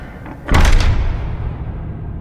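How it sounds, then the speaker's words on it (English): A door slammed shut with a single sharp, loud bang that cuts in abruptly and then leaves a long, fading rumble in a quiet room. "closed the door with a bang"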